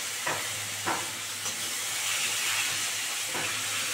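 Cauliflower florets, parboiled in hot salted water, frying in oil in a pan: a steady, bright hiss and sizzle with a few soft stirring clinks, fairly quiet and without talk.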